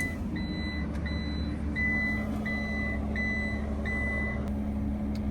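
Inside a Winnebago Travato 59KL motorhome with the engine running, a door-open warning chime beeps repeatedly in an even rhythm, loud and close, over a steady low engine hum.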